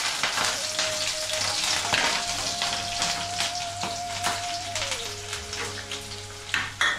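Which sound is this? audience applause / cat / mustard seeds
mustard seeds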